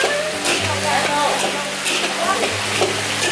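Steady crackling sizzle of chicken deep frying in hot oil in a Da Nang chicken rice restaurant kitchen, continuous and close, with faint kitchen clatter and low murmuring in the background.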